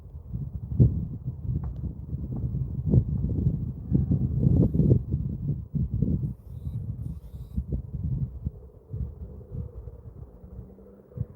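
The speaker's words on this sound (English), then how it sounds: "So it's quite windy." Low rumbling wind buffets the microphone in gusts outdoors at night, loud and close, with scattered thumps and rustles throughout.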